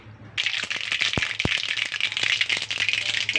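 Mustard seeds splutter and pop in hot oil in a kadai, a dense run of sharp crackles and snaps with a few louder pops, close and steady, no voices.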